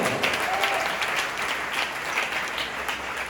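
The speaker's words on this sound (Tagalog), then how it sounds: "palakpakan natin ating Panginoon" A church congregation applauds the Lord during a worship service, with sustained, fairly even clapping throughout at moderate distance.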